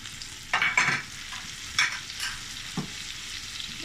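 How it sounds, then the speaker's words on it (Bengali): Chopped capsicum cubes added to onions frying in a pan for a Chinese-style prawn dish, soft sizzling with a few bursts of stirring and scraping, close and moderately quiet. "আমি পেঁয়াজের মধ্যে হাফ ক্যাপসিকাম কাটা দিয়ে দিচ্ছি"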